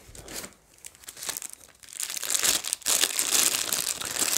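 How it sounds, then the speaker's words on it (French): Plastic and foam packaging crinkles and rustles up close as resin pieces of a quarter-scale Thanos statue are unpacked. The handling comes in bursts that start sparse, then grow denser and louder. "Là, je déballe déjà toutes les pièces pour faire de la place après"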